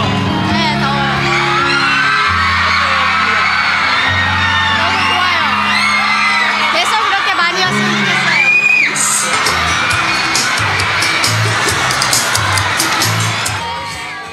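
A large, loud crowd of spectators in hot, humid Philippine weather whoops, cheers and yells continuously, with shrill shouts rising over a dense wall of voices and some chatter throughout.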